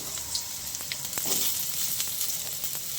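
Ridge gourd sautés in a pan with a continuous soft sizzling hiss and scattered small crackles and pops, heard nearby with no talking.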